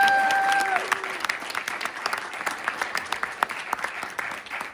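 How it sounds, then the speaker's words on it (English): An audience at a Harvard GSD session claps after a talk, a steady dense round of applause with a few louder individual claps, while a voice speaks briefly over the start. "Let's have another round of applause"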